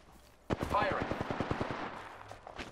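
Automatic gunfire rings out in an Apex Legends battle royale match, a loud burst of rapid, evenly spaced shots that starts abruptly and runs for about two seconds before a few scattered, fainter shots follow.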